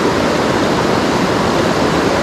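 The Toga River in Nanto flowing loudly through the mountains, a steady broadband rush of water close by with no pauses and no voices.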